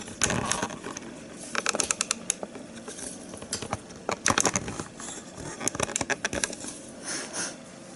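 A cat crunching and biting on a Christmas tree ornament ball indoors, giving irregular bursts of sharp, crackly clicks and taps that start and stop across the whole stretch, fairly close and with no talk.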